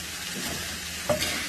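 Homemade beef tapa frying in its own juices in a pan gives a steady close sizzle, with a brief stir or scrape near the end.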